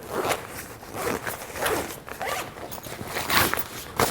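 A zip on a Berghaus Bioflex 70 Plus 15 rucksack is pulled open in a series of quick, rasping strokes, close and loud, several short zipping bursts in a row.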